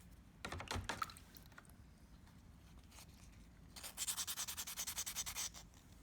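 Wet-and-dry paper of 400 grit rubbing over a piece of recycled Corian, faint scratchy strokes, first a few scattered passes and then a quick rhythmic run of back-and-forth sanding near the end.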